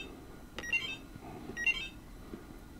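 Two short electronic beep clusters about a second apart from a Korean hotel room's light switch panel, faint and thin over a low room hum.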